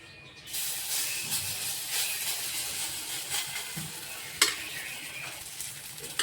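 Puffed rice vada frying in a pan, a steady close sizzle and hiss with occasional scraping stirs and a sharp clink near the middle, no voices.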